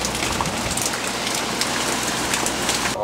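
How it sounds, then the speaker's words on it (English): Heavy rain pouring during Hurricane Ike, a loud unbroken roar of drops hammering surfaces nearby, constant throughout with no voices. "I can't really walk out anymore because the rain is going crazy."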